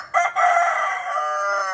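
A single loud desi rooster crow rings out close by, a drawn-out cock-a-doodle-doo lasting over a second and a half.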